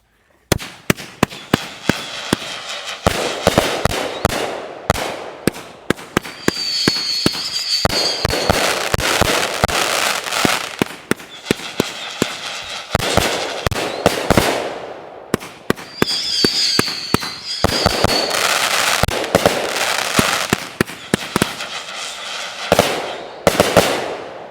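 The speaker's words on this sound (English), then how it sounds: "All right, here goes Hydrogen Bomb." A large consumer firework cake called Hydrogen Bomb fires a long volley of sharp, crackling bursts and booms, two dense rapid barrages separated by a brief lull, loud and close throughout with no talk.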